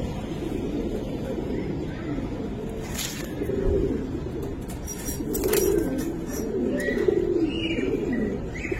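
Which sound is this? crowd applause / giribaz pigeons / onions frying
giribaz pigeons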